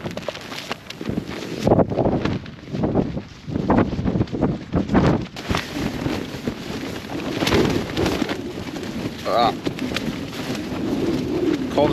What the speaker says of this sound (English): Constant wind push against my head, look.